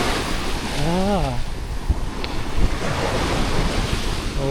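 Rough sea waves surge and wash onto a beach in Cambodia as a storm approaches, a steady close roar with strong wind buffeting the microphone and a brief higher tonal sound early on.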